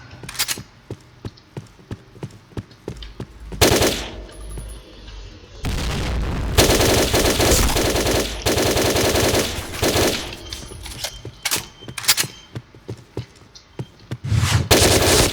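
Loud automatic gunfire from a K2C rifle in the shooting video game Point Blank comes in rapid bursts and long sustained strings, separated by brief pauses.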